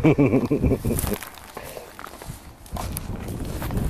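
Footsteps walking on open ground at the Grand Canyon, a run of irregular scuffing steps following a brief burst of voices and laughter at the start.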